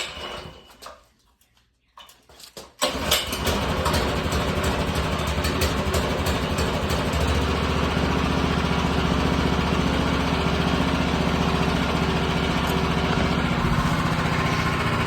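A Predator 212 engine on a minibike sputters briefly, goes quiet, then catches at about three seconds and settles into a steady, smooth, fairly quiet idle that runs close and continuous to the end.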